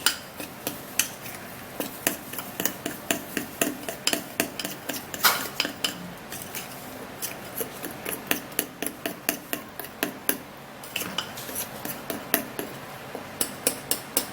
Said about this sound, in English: And then I would stir and mix it up really good.